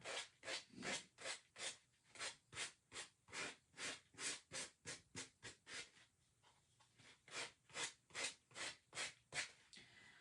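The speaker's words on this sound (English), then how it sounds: "just sanding off so it's nice and smooth on all the edges" Rhythmic back-and-forth rasping of sandpaper smoothing wood edges, close and soft, steady strokes with a brief pause midway.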